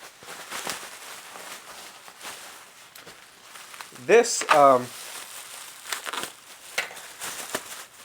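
A Ms. Pac-Man arcade marquee is pulled from its packaging. Quiet rustling and handling lead to a short, loud burst of crinkling wrap about halfway through, then softer shuffling.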